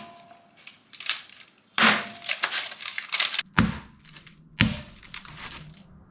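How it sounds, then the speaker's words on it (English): A small hammer taps sea foam candy made with baking soda and cream of tartar to break it into chunks, producing several sharp cracks and crunching snaps with brief pauses between strikes, close and fairly loud. "Just going to give it a light tap and see if we can't break it into some decent sized chunks."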